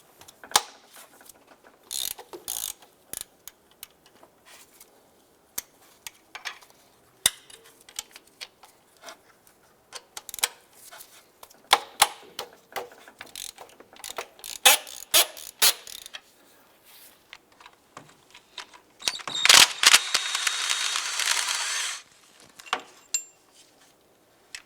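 A ratchet loosens the 15mm alternator bolt and nut on a 2011-2019 Ford Fiesta, with rapid bursts of sharp clicking repeated in irregular runs, close and clear, and a longer continuous whirring ratchet spin near the end.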